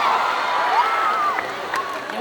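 Audience at a solo cosplay contest applauding and cheering, a steady dense wash of clapping with a few shouts rising over it, loud and close throughout.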